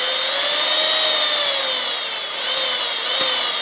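Mixer grinder motor running after a power cable replacement, a loud continuous high-pitched whine with a steady tone that wavers slightly in speed, heard alone.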